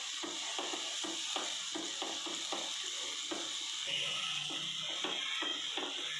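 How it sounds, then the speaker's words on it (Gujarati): Chopped tomato goes into onions frying in a pan for Kathiyawadi dhokli, stirred with steady scraping strokes over a constant close sizzle. "હવે આપણે જે ઝીણું ચોપ કરેલું ટામેટું હતું એ ઉમેરી લેવાનું છે। એને મિક્સ કરી લઈશું સારી રીતે"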